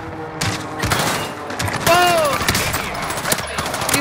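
Rapid shotgun gunfire in a multiplayer shooter game, repeated sharp blasts and booms over chaotic game noise, with players talking over team comms.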